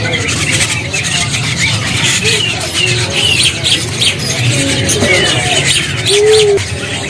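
White starlings (Javan pied mynas) and other caged birds at a kiosk in Pramuka bird market give repeated squawks, chirps and whistles close by over busy market chatter, with people talking throughout.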